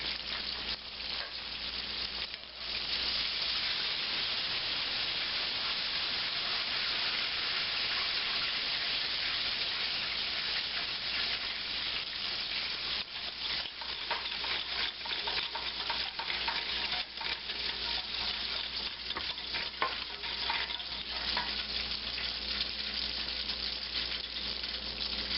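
Milk and cream poured and stirred into a frying pan of roux for Southern cream gravy with chicken fried steak, a continuous bubbling sizzle with scraping stirs, close and steady throughout.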